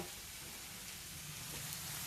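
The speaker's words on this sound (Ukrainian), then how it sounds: "Бачите, гарненько так воно смажиться." Onion frying in a new pan, a faint, steady sizzle with fine crackling spread evenly throughout, heard alone without talk.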